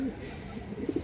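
Soft, close cooing from a one-year-old female Indian high-flyer Kaldam pigeon: a brief low coo, then three quick pulsed notes at the end, quiet against a faint room hum.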